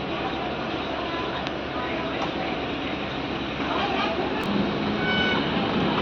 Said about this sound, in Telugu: హనుమపురం నుంచి మన ట్రైన్ బయలుదేరింది.